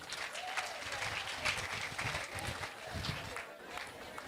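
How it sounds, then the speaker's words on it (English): A school audience applauds the teachers who organized an AU summit event, a sustained patter of clapping with crowd noise and voices mixed in, fairly faint and distant. "Can we clap for them?"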